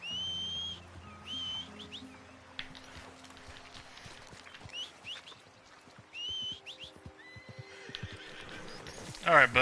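A horse in the Red Dead Redemption 2 video game whinnies several times over hoof clip-clops, with game ambience and bird calls behind it and someone talking at times.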